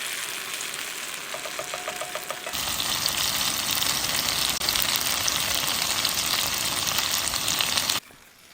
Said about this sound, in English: That gravy will boil over.